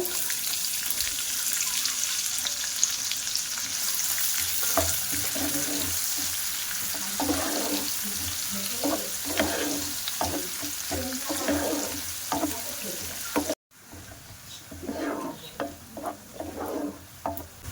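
Chopped onions fry in oil with whole spices such as cardamom, giving a constant sizzle as rhythmic spatula scrapes and stirring strokes repeat. There is a brief cut near the end.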